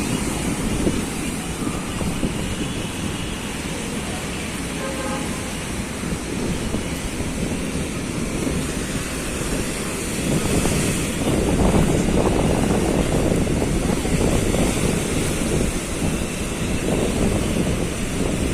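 Strong wind buffets the microphone on the Alexandria seafront in winter weather, with the constant roar of high, rough sea waves beneath, a heavy unbroken rumble that swells slightly louder partway through.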